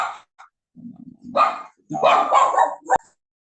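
A dog barks in a few short bursts and then a longer run of yipping barks, loud and close, with brief gaps of silence between them.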